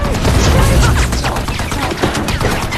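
Dense, chaotic bursts of gunfire and crashing impacts fill a war film battle scene, loud and continuous.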